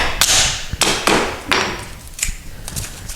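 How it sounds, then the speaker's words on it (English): A hammer knocks the end blocks off a bypass sliding closet door, giving about six sharp, loud, close wooden whacks at uneven intervals, each followed by a short ring. "just take a hammer and just hit it, take it off"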